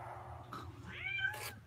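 A kitten cries out in a few rising, drawn-out mews, fairly close, with a low steady background hum and brief rustles.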